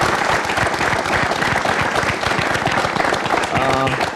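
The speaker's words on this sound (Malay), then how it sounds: "Kita beri tepukan kepada Prof." An audience at an evening televised budget forum gives sustained, loud applause, dense clapping filling the room throughout with a voice over it near the end.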